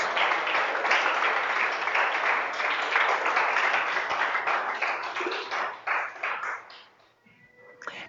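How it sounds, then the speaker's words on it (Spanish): A church congregation claps for Jesus during a Spanish-language service: dense, sustained applause that fills most of the stretch, then thins and fades near the end. "Dele fuerte ese aplauso a Jesús."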